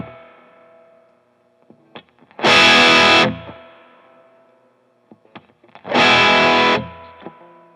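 Electric guitar through a budget Mad Driver overdrive pedal set bright: two loud, saturated distorted chord bursts about three seconds apart, separated by quieter ringing notes and picking.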